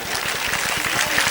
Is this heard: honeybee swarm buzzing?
no